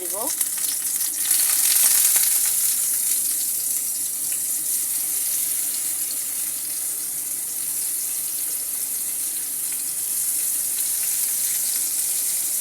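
Hilsa fish pieces fry in hot oil, producing a loud, even, continuous sizzle and hiss that holds steady throughout with no voices.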